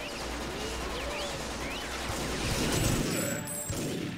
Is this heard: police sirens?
no